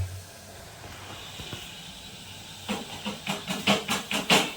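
Steady hiss of spices sizzling in hot oil for tempering, rising into a series of rhythmic crackling bursts toward the end.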